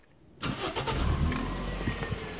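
A Toyota Starlet with a twin-cam engine cranks briefly and catches, then settles into a loud, rough idle close by, with no talking.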